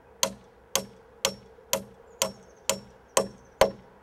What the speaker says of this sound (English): the face of the hammer really needs to strike the nail flush, flat to flat